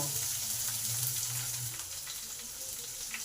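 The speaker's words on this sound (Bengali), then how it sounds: "এই পেঁয়াজটাকে একটু ভালো করে ভেজে নেব।" Chopped onion fries in a pan, a soft even sizzle with faint stirring, quiet and close with no talking.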